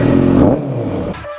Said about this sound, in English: He's popping the wheelie on his fucking Ducati